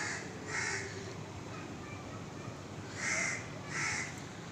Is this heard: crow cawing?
yes